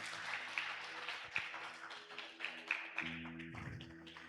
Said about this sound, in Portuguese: Vamos aplaudir o Senhor, meus irmãos